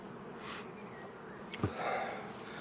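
Honeybees buzz steadily at an opened hive with nine-frame bodies being expanded with wax foundation, a continuous close insect hum with a brief thump midway.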